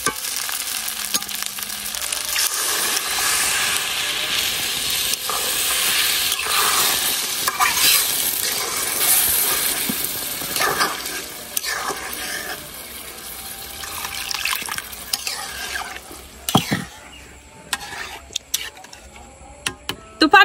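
Broken rice, fried until dry, sizzles loudly in a hot pan as water is poured in, with steady stirring scrapes and a few sharp clanks near the end.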